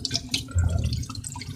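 Tap water runs and splashes into a sink while the temperature is adjusted before lapping sharpening stones, a close, continuous splashing with small drips and no talk.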